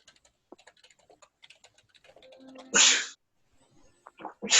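A single loud sneeze bursts out during a chemistry lesson, set against light keyboard typing, with a second sharp sneeze-like burst following shortly after.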